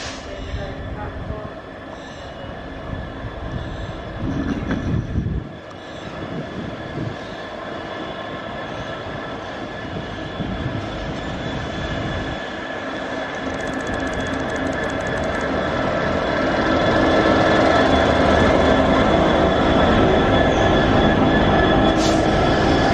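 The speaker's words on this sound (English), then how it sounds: "here comes your first freight" A freight train rolls past on the railway, its low rumble and clatter of wagons building steadily louder toward the end, with a brief squeal and continuous wheel noise close by.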